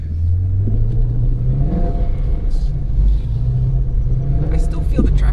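A Ford GT350 with bald tires spins donuts on wet grass, its engine rumbling loud and steady throughout, with revs rising and falling and someone talking over the noise.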